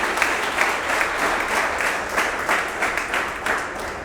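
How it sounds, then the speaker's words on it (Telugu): An audience at an institute farewell party gives a big round of applause, many hands clapping loudly and continuously with slight swells in intensity, no talking over it. "give a big round of applause"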